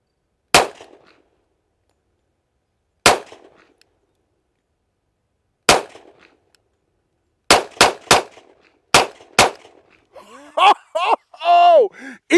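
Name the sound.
10mm 1911 pistol rapid fire gunshots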